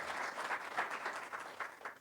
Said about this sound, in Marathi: जोरदार टाळ्या आपण त्या परमेश्वरासाठी वाजवूयात